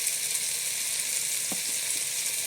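Dry red chillies sizzle in hot mustard oil in a kadai, giving a steady, even frying hiss. A single soft clunk is heard partway through.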